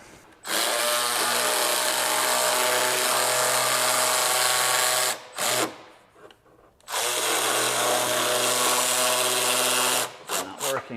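Power tool whirring on a 2017-25 Honda Ridgeline during a lift kit install, set in reverse; two long loud continuous runs with a brief burst near the end, separated by short pauses.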